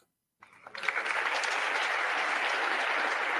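Applause starts abruptly after a brief silence and quickly swells into steady, dense clapping from many hands that holds at an even level to the end.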